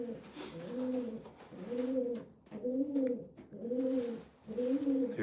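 Racing pigeons in a loft coo in a slow repeating rhythm, about five soft rolling calls close by, with quiet gaps between them and no talking.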